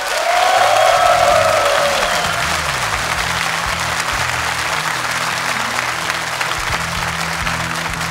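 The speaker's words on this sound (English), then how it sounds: "Big round of applause." A live audience at the European Battle.net Invitational 2011 StarCraft II tournament gives a long, dense round of applause with light cheering, loudest at first and then holding steady, while a voice speaks over it early on.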